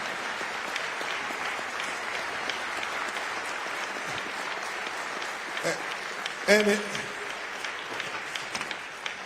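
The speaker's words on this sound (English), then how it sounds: "please give her another round of applause for Leon" Applause from a funeral congregation in a Baptist church, sustained clapping of a large crowd at moderate volume, with voices and a few louder cheers mixed in near the middle.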